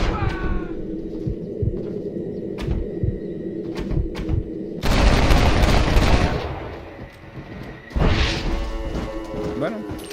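Gunfire in the video game Red Dead Redemption: bursts of loud close shots and crashing impacts, with voices talking over the fighting.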